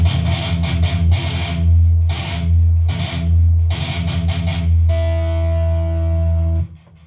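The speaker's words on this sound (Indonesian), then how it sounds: "Ada satu lagi efek distorsi atau overdrive yang bisa kalian pakai sebetulnya di multiple efeknya." Heavy metal guitar tone with thick distortion from a multi-effects unit, loud and close, played as choppy palm-muted bursts before ringing into a sustained chord that cuts off at the end.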